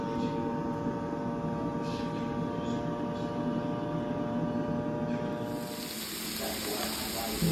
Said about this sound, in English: This is a portable vacuum sealer.